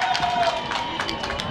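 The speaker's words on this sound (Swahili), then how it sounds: "makofi mengi sana kwa mkuu wa mkoa" Applause for the regional commissioner at a Women's Day gathering, a dense crowd of clapping hands rattling steadily throughout with some murmur mixed in.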